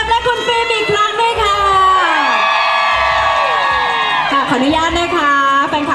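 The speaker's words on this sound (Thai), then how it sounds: "ขอเสียงปรบมือและเสียงกรี๊ดดังๆ" Fans at a meet-and-greet during a health and wellness product event let out shrill, sustained screams and cheers, loud and close, with rising and falling squeals and some clapping underneath.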